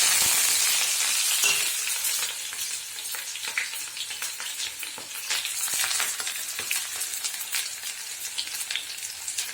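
Onion and chopped curry leaves with two dried red chillies crackle and sizzle steadily in hot oil for bitter gourd kuzhambu, a continuous close frying hiss with scattered pops and occasional stirring clinks, no talking.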